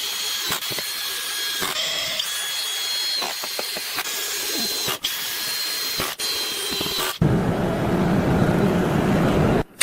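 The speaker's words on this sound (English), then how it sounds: "Reinforcing the timber joints with heavy-duty steel L-brackets and large screws" Power drill driving large screws through heavy-duty steel L-brackets into timber wall-frame joints of an off-grid log cabin in a forest, several short whirring bursts with pauses, then a longer sustained drive near the end, close and fairly loud.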